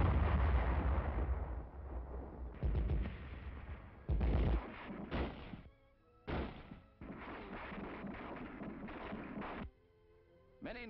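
Artillery fire in World War II fighting on Okinawa, heard as a series of heavy booming blasts and thuds in bursts with brief gaps, loud and muffled with an old recording quality.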